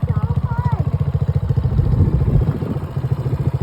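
Kawasaki KLX 170 big bore dirt bike with a BBR exhaust, its engine chugging with a steady low pulsing beat close by, voices talking over it and a brief rev in the middle.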